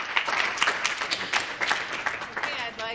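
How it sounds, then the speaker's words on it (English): Round of applause from an audience at a community service club check presentation, a steady patter of many hands clapping across the whole stretch with some voices mixed in. "Give yourselves a round of applause."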